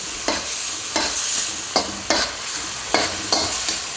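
Peas cooking in a hot pan for pork fried rice, with a loud close sizzle broken by about six sharp scraping stirs at an uneven rhythm, and no talking.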